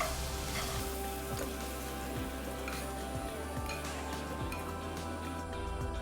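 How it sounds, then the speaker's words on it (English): Green capsicum and paneer sizzle steadily in hot oil in a pan, a continuous close frying hiss with occasional stirring scrapes and clinks throughout. "and green capsicum to the same heated oil and saute for a minute"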